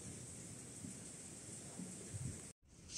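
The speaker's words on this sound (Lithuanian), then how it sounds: "ten pradėjo lyti lietus." Rain starting to fall in the mountains near Ghandruk, a soft, steady hiss of drops with low rumbling beneath, broken by a brief cut near the end.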